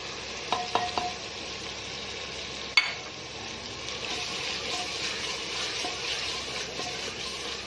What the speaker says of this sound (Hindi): और इसको हल्की आंच पे घी छोड़ने तक भूनेंगे।